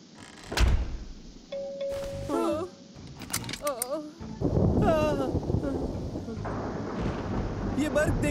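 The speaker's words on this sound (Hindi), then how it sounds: "ये महज तूफान का झटका था।" Cartoon storm thunder strikes around a plane flying through the Bermuda Triangle: a sharp crack near the start, then rough rumbling noise later on, all mixed under animated characters talking.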